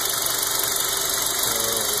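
A Kia Soul Base with a 1.6-litre, 115-horsepower engine runs at a steady, loud idle with an even mechanical hum and faint ticking, close up, with no speech.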